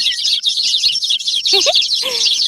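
Birds in a cartoon forest chirp in a steady, bright high-pitched chatter, with a couple of lower whistling calls rising near the end, no voices present.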